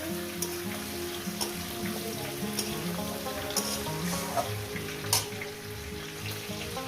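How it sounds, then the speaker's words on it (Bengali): A fish head with pumpkin and Malabar spinach fries gently over a low gas flame, giving a soft, even sizzle with faint spatula scrapes and small pops throughout. "দু মিনিট এইভাবে একটু কষিয়ে নেবেন"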